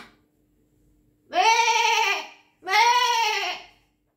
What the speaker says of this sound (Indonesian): Oh, itu kan suara domba.